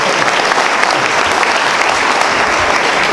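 An audience at a talk about the 13 Hours at Benghazi events breaks into dense, loud applause that continues without pause from start to finish.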